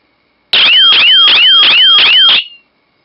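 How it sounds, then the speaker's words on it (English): The loud siren of a DIY paintball and airsoft alarm kit shrieks in six rapid rising whoops over about two seconds, very close and piercing, then cuts off abruptly. "It takes about 8 seconds, and the siren will go off. And the siren is really, really loud."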